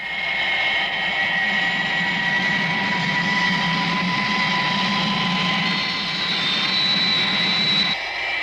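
A loud, steady jet engine roar with a high whine on top, holding constant and close before cutting off near the end, from a jet aircraft being abandoned by its pilot in a 1964 French TV drama.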